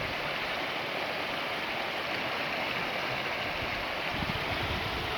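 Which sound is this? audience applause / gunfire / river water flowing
river water flowing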